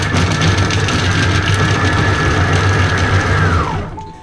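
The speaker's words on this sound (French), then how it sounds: "on va hacher 5 secondes à vitesse 5" Monsieur Cuisine Connect food processor from Lidl chopping at speed 5, a loud steady motor whir with a buzzing blade tone held for several seconds, then winding down abruptly at the end.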